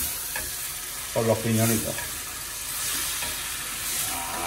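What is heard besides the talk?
oregano frying with pine nuts in a pan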